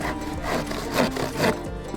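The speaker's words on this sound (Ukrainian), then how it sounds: "Відпилюємо пилкою по розмітці." A hand saw cuts along a marked line across an edged wooden board while a hut is built beside a pond, with close, loud, rhythmic rasping strokes, several back-and-forth passes and no voices.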